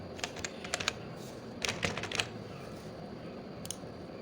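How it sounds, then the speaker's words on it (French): Fingers tap out a password on a computer keyboard in quick, light bursts of clicks with short pauses between them, faint and close in a quiet room. "On va écrire le mot de passe aussi."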